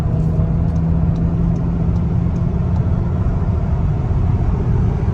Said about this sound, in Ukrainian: це я нажимаю педаль на відсотків 60